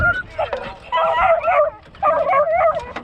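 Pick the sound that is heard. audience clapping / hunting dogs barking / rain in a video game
hunting dogs barking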